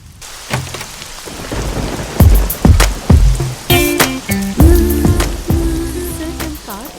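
Heavy rain pours steadily while sharp thunder cracks and rolling booms strike repeatedly, loud and close, with a few lingering rumbles and no voices.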